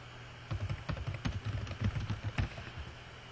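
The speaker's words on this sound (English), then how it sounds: "And you type a short description." Fingers type a short description on a computer keyboard in a quick run of soft, close key taps with slight pauses, no voices present.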